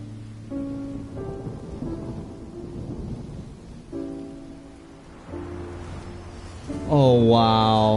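Heavy rain with rolling thunder in the video game Genshin Impact, a dense wash of noise beneath tonal music and in-game character voices speaking over it.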